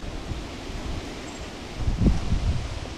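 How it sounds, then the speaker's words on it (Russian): Wind buffets a microphone outdoors, producing a low rumbling roar that swells louder near the end. "Ветер сегодня, я думаю, плохо меня слышно будет."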